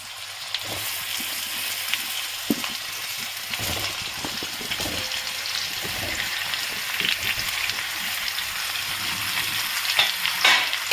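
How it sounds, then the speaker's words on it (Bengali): Green mango pieces fry in hot oil with five-spice, a steady close sizzle broken by scraping stirs and clatters of a utensil against the pan. "তেলটা গরম হয়ে গেছে, আমি 1 টেবিল স্পুন 5 ফোড়ন দিলাম। এবারে আমি আমগুলো দিচ্ছি।"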